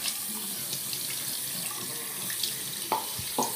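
Tap water runs steadily into a sink or tub to rinse a muddy dog, a continuous close hiss of flowing water with a few small splashes and knocks near the end.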